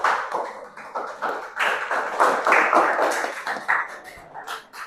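A school class performs an appreciation clap chant, with rhythmic bursts of group clapping and chanting voices rising and falling together close by.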